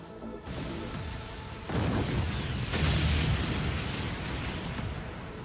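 Deep rumbling explosions in the Bakugan New Vestroia cartoon roll on continuously, a heavy booming roar that swells louder partway through and stays dense to the end.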